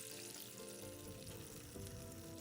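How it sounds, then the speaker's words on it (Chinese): Pre-made sauce poured into a pan of melted butter, a steady dense sizzle with a bubbling texture, close and even throughout, no talk. "牛油化开后，再将预先备好的调味酱全部倒入"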